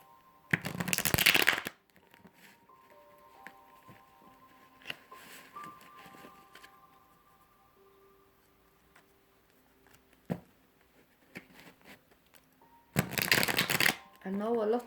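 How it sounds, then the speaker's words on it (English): Tarot cards are shuffled in two brisk, close bursts at the start and end, separated by quieter handling and soft talk. "I will shuffle the cards really good"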